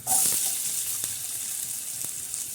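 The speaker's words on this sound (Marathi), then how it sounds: "तडक्यामध्ये आपण कांदा टाकणार आहोत" Onion dropped into hot tempering oil, a strong hiss that swells at the start and then settles into a steady sizzle with a couple of faint knocks.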